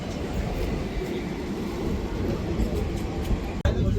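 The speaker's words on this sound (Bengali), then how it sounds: "আমাদের ট্রেন রায়বালা স্টেশন ছাড়লো" The Humsafar Express pulls out of Raiwala station with a steady, rumbling roar of rolling wheels and carriages and a sharp clunk near the end. No voices are heard.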